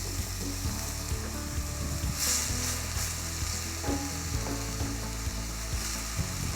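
Tequila and stock deglazing a hot pan for braised pork shoulder, with a steady close sizzle and bubbling while a silicone spoon scrapes the bottom in short, repeated strokes.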